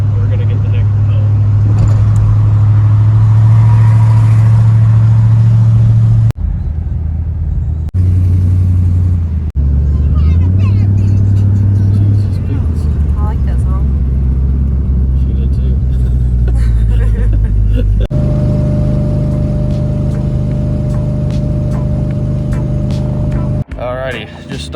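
An old Chevrolet squarebody dually pickup drones steadily at road speed, its deep engine and road rumble loud inside the cab, shifting pitch a few times, while people talk over it.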